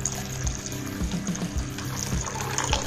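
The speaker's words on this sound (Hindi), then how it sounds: "अब इसी पानी में हम डालेंगे 3 से 4 गिलास पानी" Water pouring steadily into strained pani puri paste, a continuous close splashing trickle with small gurgles, fairly quiet throughout.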